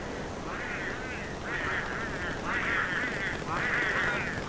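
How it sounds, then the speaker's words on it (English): Penguins calling in the video game Don't Starve, a series of four nasal, quacking bursts in a regular, synchronized rhythm over a low background hum. "The sound of those penguins, it's so synchronicious."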